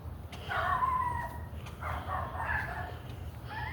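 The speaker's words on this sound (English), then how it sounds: "Oh, looks like the dogs are waking up." Neighbouring dogs bark in a few tonal bursts at moderate distance over steady low outdoor ambience during a morning walk.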